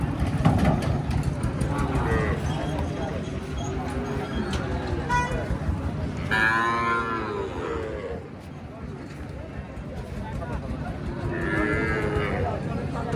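Calves at a cattle market give several loud, drawn-out moos, spaced apart over a busy background of crowd chatter and nearby voices.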